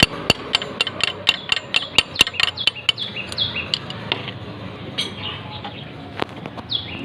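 A hammer strikes a broken spark plug to loosen it, a quick run of about a dozen sharp metallic knocks that then grow sparse, with birds chirping in the background and no talking.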